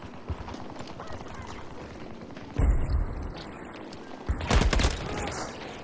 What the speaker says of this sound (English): why does it keep pausing while it's firing? Like it's hiccuping during full auto fire